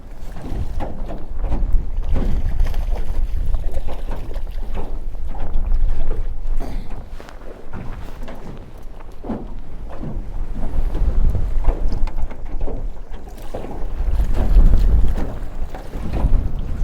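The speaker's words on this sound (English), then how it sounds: "This wind is definitely pretty interesting." Strong wind buffets a small fishing boat out trout fishing in hurricane conditions, a loud continuous roar of gusts and microphone buffeting over water, rising and falling with heavy bursts throughout, no voices.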